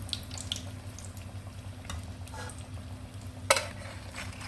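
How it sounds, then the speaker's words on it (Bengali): Leaves frying in hot oil in a pan, a steady soft sizzle with faint crackles throughout and one sharp louder splutter near the end. "এভাবে আমি সবগুলা ভেজে নিব"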